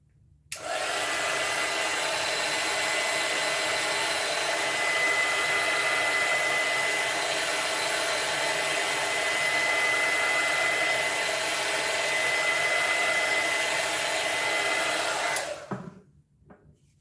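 A hair dryer drying paint blows steadily and loudly for about fifteen seconds, a constant whirring hiss with a thin whine, then switches off.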